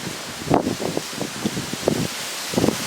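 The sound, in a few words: wind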